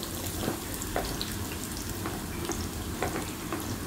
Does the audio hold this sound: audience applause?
no